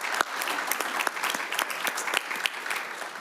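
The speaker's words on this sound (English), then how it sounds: "can we applaud these students, please?" Audience in an education policy committee hearing room applauds visiting students, a steady, dense patter of many hands clapping at moderate loudness with no voices over it.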